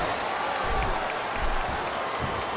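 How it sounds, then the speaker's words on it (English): A virtual arena crowd in the WWE 2K25 wrestling game roars during a submission hold, a continuous loud wash of cheering and crowd noise with no clear break. "I love hearing the crowd come alive"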